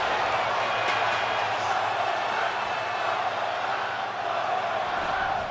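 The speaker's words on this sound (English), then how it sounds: "Crowd chanting one more time." A wrestling crowd chanting in unison at a PWG event, a steady loud arena roar of many voices sustained throughout without pause.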